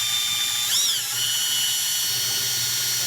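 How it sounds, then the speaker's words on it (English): A steady high-pitched drill whine with a brief rising and falling pitch as it bites, running continuously and close, drilling a pilot hole for an interior door handle on a Mercedes-Benz C250. "So I'm just going to go ahead and drill it out slowly"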